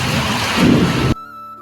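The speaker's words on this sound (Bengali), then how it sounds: "এত বৃষ্টি হচ্ছে" Heavy rain in a thunderstorm, a loud steady rushing roar with low rumble that cuts off abruptly partway, leaving near silence.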